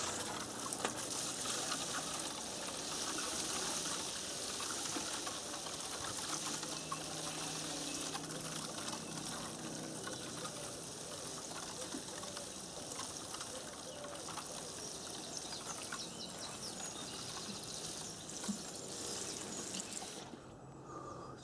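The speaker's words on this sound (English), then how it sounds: "I'm just going to give these a water in now." Water poured over potted plants set in pure stable horse manure, a steady, soft trickling and splashing at low level that runs without pause for about twenty seconds.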